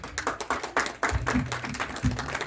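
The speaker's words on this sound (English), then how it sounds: "Hats off to our team again with a clapping sound together." A small group claps together in quick, uneven bursts, close by, with a few sharper hand strikes standing out.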